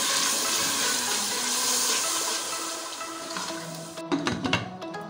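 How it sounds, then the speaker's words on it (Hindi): Half a cup of water is poured into egg curry simmering in a pan, a steady hissing pour that gives way to bubbling and clattering sizzles near the end. "इसको 1/2 कप पानी डालकर गलने के लिए छोड़ दें हल्की आंच पर।"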